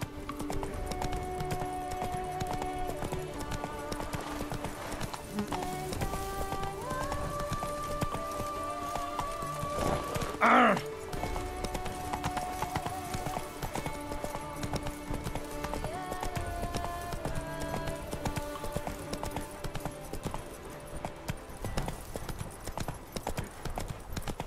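Roach, a horse in The Witcher 3, gallops with a steady clip-clop of hooves under a continuous orchestral game soundtrack, with a brief louder burst midway and a faint voice briefly present.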